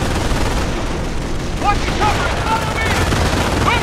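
Automatic gunfire in the World War II strategy game Company of Heroes, loud dense bursts of rattling shots and distant booms mixed with shouted voices of soldiers.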